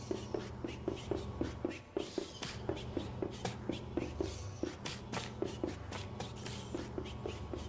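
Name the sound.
Woodleg's wooden leg footsteps on the ground, from the video game Don't Starve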